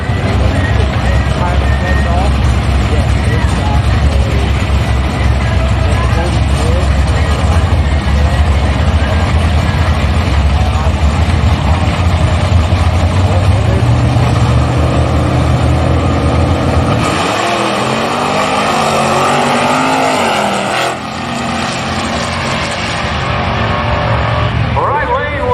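Drag racing cars, including a 1975 Chevy, roar loudly down the strip with revving engines and a dense, close rumble, then the sound thins and pitches shift as a car pulls away, while an announcer talks over it.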